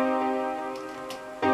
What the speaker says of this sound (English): So that would be a minor chord. So it would sound like this.